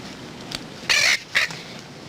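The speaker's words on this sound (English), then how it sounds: "Sergeant, get rid of that bird immediately." A bird squawks in a few short, harsh bursts inside an army barracks, close and moderately loud, the second call briefer than the first, with no voices over it.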